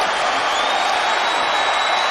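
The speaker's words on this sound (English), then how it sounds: "That doesn't quiet the crowd" A basketball arena crowd at a college conference championship game cheers in a dense, loud, continuous roar, with a faint whistle-like tone running through it.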